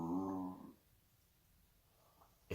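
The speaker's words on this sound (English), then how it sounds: "My dog's just down there yawning" A dog lying nearby gives a single short, low, groaning yawn at the start, followed by near silence and a faint click at the end.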